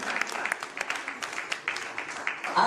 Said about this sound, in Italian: quindi con Ania, un applauso alla sua ballerina